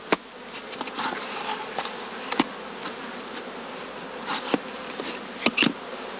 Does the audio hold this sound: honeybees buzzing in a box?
yes